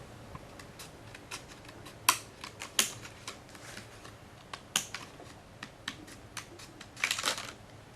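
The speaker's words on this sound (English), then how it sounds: "any size scissors, and snip" Scissors snip through a plastic candle mould for a Christmas tree candle, a run of crisp, close cuts at an irregular pace, some sharper and louder than others, with no talking.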